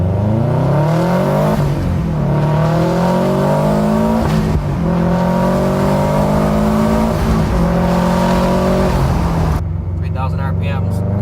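A car engine at wide-open throttle pulls hard from a rolling start at about 2000 RPM through first, second and third gear during MAF calibration. It is loud and close, with rising engine tones broken by brief dips at each shift.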